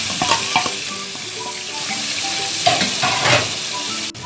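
Chicken pieces fry with karahi masala and chopped onion in a hot karahi, giving a steady sizzle broken by scraping stirs of a spoon. Close, loud, with no talking.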